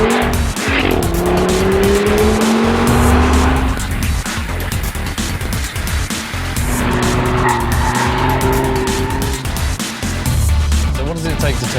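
An Audi RS Q3, a 2.5-litre five-cylinder turbo sending 306 bhp to all four wheels, is driven hard, its engine note rising and falling loudly with tyre squeal, while someone talks over it.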